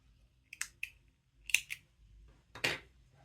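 Scissors snip acrylic yarn while finishing a crochet amigurumi opossum in overalls, giving three or four crisp, close clicks in two quick clusters with short pauses between and no talk.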